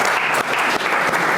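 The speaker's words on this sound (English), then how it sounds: "I think it's okay to give him another hand clap." Steady, dense applause from the audience at an internal medicine grand rounds on systemic lupus erythematosus, filling the whole short moment with even clapping and no speech.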